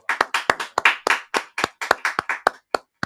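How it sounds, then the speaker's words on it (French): A church congregation claps in a quick, rhythmic run of sharp, close hand claps, roughly a dozen beats in three seconds, with no voices over them. "Acclamons la parole."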